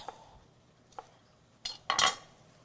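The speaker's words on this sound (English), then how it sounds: "I'm gonna just slice these about 1/2 inch thick." A knife cuts asparagus stalks on a cutting board in a few sharp, separate knocks and clicks, the last two louder and closer together, in an otherwise quiet kitchen.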